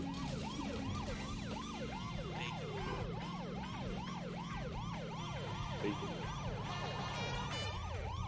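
Police car sirens in a video game wail in fast, repeating rising-and-falling sweeps, loud and continuous over a steady engine-like drone, with several sirens overlapping and no talking.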